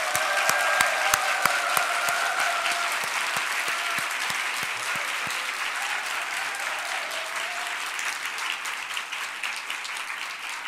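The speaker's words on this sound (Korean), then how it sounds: "우리 뜨겁게 여러분 박수해 주시기 바랍니다." A church congregation at a Christmas service applauds its choir conductor and accompanist, warm sustained clapping that starts with a few sharp claps and settles into an even, full roar.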